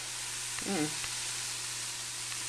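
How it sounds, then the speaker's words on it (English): Ground sirloin browning in a pot on the stove, a steady soft sizzle throughout, with a brief voice murmur and a light clink near the start. "in my pot I'm browning 1 pound of ground sirloin"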